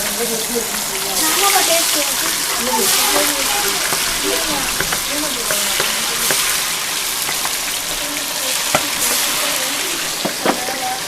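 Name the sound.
chicken 65 frying in hot oil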